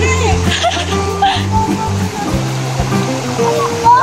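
A river in Cotabato rushes steadily during a crossing, its broad watery roar running beneath several excited voices talking close by.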